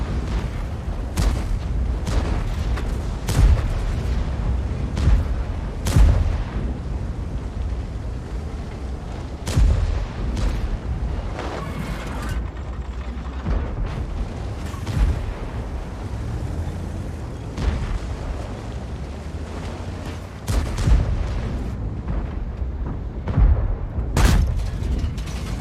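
A WZ 55 tank cannon fires shells in a video game, heavy booms recurring every few seconds over a constant rumbling engine and battle din.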